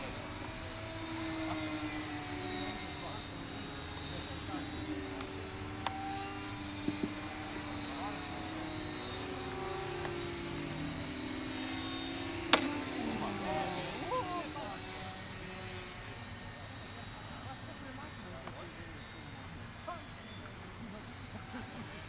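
Airplanes flying somewhere overhead during a mock aerial combat match, a steady distant engine drone running the whole stretch under scattered voices and brief clicks, with one sharp transient midway.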